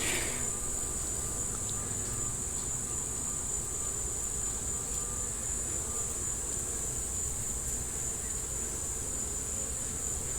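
Honey bees buzz steadily around an open hive during a queen transplant, a dense continuous drone close by, with no talking.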